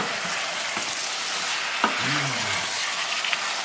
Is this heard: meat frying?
yes